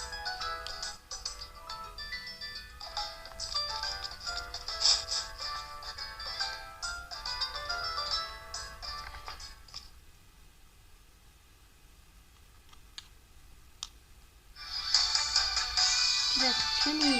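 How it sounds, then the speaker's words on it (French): A doorbell rings in the Pokémon Sun video game, a bright chiming tone heard briefly near the end, after a stretch of game music and a quieter pause. "C'est sûrement le professeur Effort qui sonne là."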